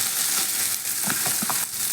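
Shredded chicken, precooked with salt, turmeric and chilli powder, sizzling in ghee in a pan for a chicken thoran, a steady close frying hiss with a few soft stirring clicks near the end.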